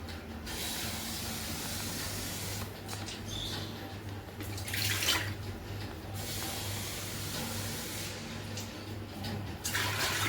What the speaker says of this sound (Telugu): 2 గిలాసులు నీళ్ళు వేస్తాను.